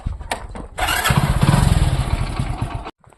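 A motorcycle engine starts after a few clicks and knocks, then revs loudly and steadily for about two seconds before cutting off abruptly into silence.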